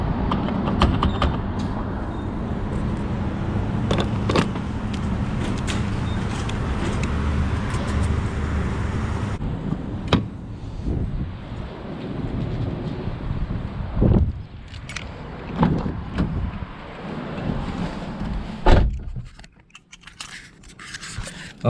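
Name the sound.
refueling a Ford Shelby GT500 at a gas station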